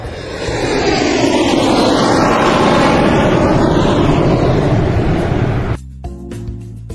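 Airplane takeoff effect: a loud, sustained engine roar rising with a sweeping whine for nearly six seconds, then cutting off abruptly to a quiet tail.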